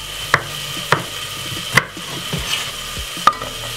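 Garlic cloves drop into a hot pan and fry with a soft, steady sizzle, punctuated by a few sharp clicks and taps of utensils against the pan.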